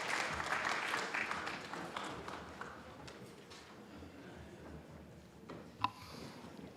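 An audience at a city council meeting claps, a scattered burst of applause that is strongest at first and thins out after a few seconds into sparse, fading claps.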